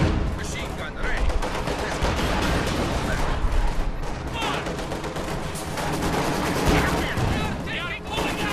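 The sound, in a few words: machine gun fire in Company of Heroes 2 video game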